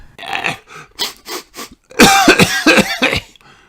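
A cartoon pony, Pedro Pony, sneezes in a loud, voiced burst after a few short sniffly breaths, sharp and close.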